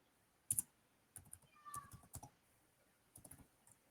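Computer keyboard keys are tapped in short irregular bursts of clicks, faint and close, with quiet pauses between clusters of keystrokes.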